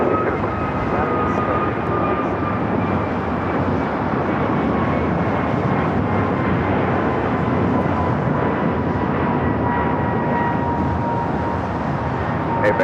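A jet airliner roars down runway 25 right at Los Angeles International Airport on takeoff, a loud, steady broadband rumble with a faint whining engine tone that holds for about thirteen seconds.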